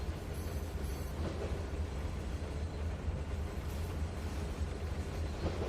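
A train rolls past beneath a signal gantry in the Trainz 2019 simulator, a steady low rumble and rail noise held at even loudness throughout, with no talk.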